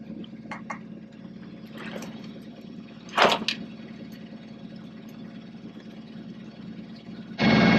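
A sailboat motors across a calm sea, its engine putting out a steady low drone with a few brief splashes and knocks on top, ending in a louder surge of noise.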